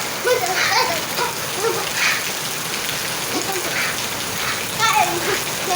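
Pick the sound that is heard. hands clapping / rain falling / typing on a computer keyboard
rain falling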